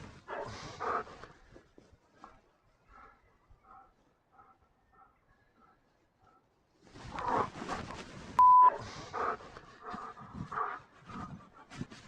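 A dog barks in a few sharp bursts at the start, then a calmer stretch of faint whimpering or panting follows before a loud, active burst with a person's voice and a brief beep near the end, all outdoors away from a path.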